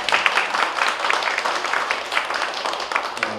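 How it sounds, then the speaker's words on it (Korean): Audience at a political party lecture event applauding, a steady dense wash of clapping hands heard from within the room, fairly even in loudness for a few seconds with no talking over it. "솔직히 박수 한번 보내주겠습니다."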